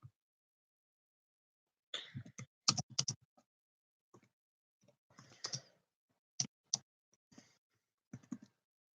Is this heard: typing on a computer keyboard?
yes